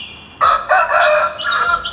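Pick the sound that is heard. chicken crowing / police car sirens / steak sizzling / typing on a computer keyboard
chicken crowing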